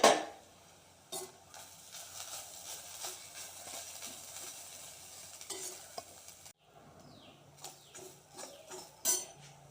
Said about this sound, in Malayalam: ഇനി നന്നായിട്ടങ്ങ് വറുക്കാം.